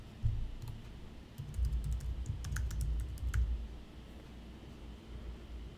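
Keys clatter on a computer keyboard as text is entered, a quick run of soft clicks over a few seconds, close and fairly quiet against a low background hum.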